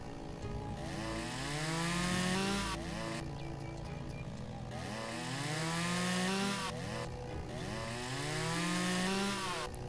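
A chainsaw in Lumberjack's Dynasty bucks and delimbs felled trees, its engine loudly revving up and dropping back in repeated cycles, each rise a whining cut, with brief idle gaps between.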